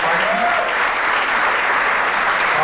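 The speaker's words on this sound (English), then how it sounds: "Give them a round of applause." Comedy club audience claps loudly and steadily for the troops, a brief, close, unbroken burst of applause.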